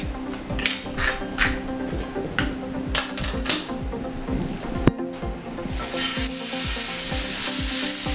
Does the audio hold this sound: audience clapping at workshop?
no